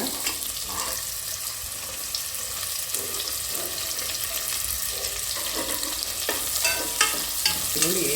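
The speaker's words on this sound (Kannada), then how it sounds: "ಎಣ್ಣೆ ಕಾದಿದೆ ಇವಾಗ ಈ ಮಸಾಲೆ ಸಾಮಾನೆಲ್ಲ ಏನಿತ್ತು ಅದನ್ನು ಹಾಕ್ಕೊಳ್ಳೋಣ ಗಮ್ ಅಂತ ಅನ್ನುವಾಗ ನೋಡಿ ಸೌಂಡ್ ಬರ್ತಿದೆ" Whole spices sizzling in hot oil in a pot for biryani, a steady, dense frying hiss close by, with a few sharper stirring clicks toward the end.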